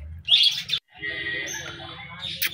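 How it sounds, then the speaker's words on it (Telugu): Colourful caged birds at a zoo park chirp and tweet in quick, high bursts, with several calls overlapping at moderate distance over a low background hum. "చూడండి ఎట్లా ఉన్నాయి రంగురంగుల పక్షులు"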